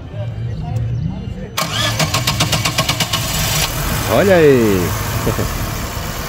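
A Chevrolet Corsa engine cranks with a rapid rhythmic whir, then catches and settles into a steady idle at a used car fair in Caruaru, Brazil, while someone speaks briefly nearby.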